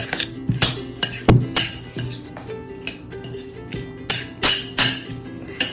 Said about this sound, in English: Make sure to mash really good so it's fine added